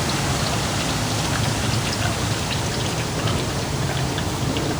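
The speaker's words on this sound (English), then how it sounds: "Oil's draining now." Engine oil drains from the oil pan of a 2005-2010 Hyundai Sonata 2.4L, a steady, dense splattering pour with no pauses, close and fairly loud.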